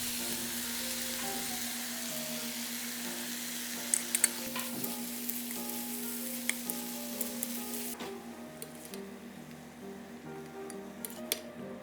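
Beaten eggs go into a pan of frying goya chanpuru with soup stock, a steady close sizzle that stays even throughout, dotted with faint clinks and taps of a utensil and no voices.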